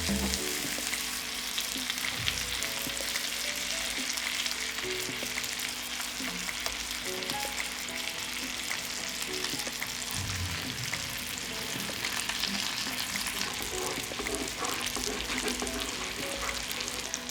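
Pork fillet, browned on all sides, fries in a pan with 20 g of butter, giving a steady, close sizzle with occasional stirring scrapes and crackles throughout.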